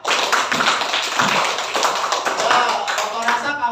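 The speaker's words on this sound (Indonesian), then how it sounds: "Beri tepuk tangan untuk Teresia." Classroom applause for a student named Teresia, a burst of many hands clapping together, loud and dense, with children's voices mixed in toward the end.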